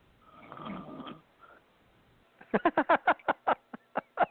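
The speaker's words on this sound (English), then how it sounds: "Who's snoring? Somebody's asleep." Snoring heard over a phone line during a psychic call-in show: a muffled rasp early on, then a rapid series of short rhythmic snorting breaths, close and fairly loud.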